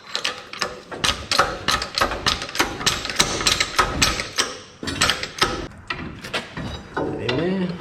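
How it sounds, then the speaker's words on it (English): Hydraulic jack being pumped under the lower control arm of a Toyota Hilux, a rapid run of close metallic clicks and clunks with steady rhythm, ending in a rising squeak near the end. "Just going to jack the lower control arm up a little bit."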